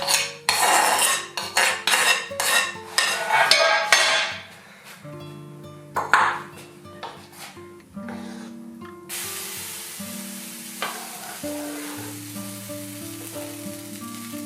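Utensil clinking and scraping around a pot of Ukrainian green borscht being stirred quickly, a run of sharp close metallic strikes giving way to steadier scraping over a low background hum.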